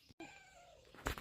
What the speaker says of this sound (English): And all I got now is cats. Hungry cats.